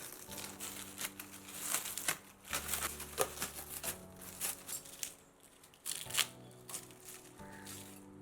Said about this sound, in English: Let me just unwrap the bubble covering